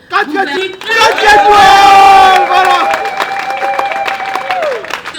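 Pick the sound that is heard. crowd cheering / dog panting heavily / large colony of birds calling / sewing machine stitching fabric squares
crowd cheering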